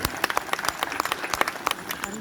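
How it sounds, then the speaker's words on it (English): An audience at a Night Safari animal show in Singapore claps in a brief burst of applause, scattered hand claps mixed with crowd noise, moderately loud and near. "how about a round of applause for Liana and Oscar"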